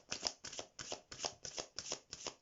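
Tarot cards being shuffled in a steady rhythm, seven quick riffling bursts in a row, close and clear with no talking.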